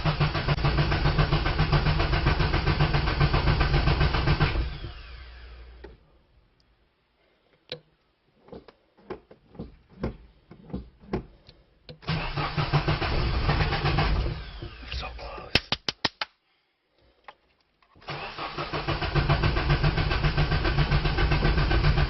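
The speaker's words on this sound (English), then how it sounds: "I have the video of the first time the car has started since I bought it." A Nissan S14 cranks and starts for the first time in a long while after a fuel filter install, with loud engine running, a stretch of quiet ticking and clicks, then the engine catching and running again twice.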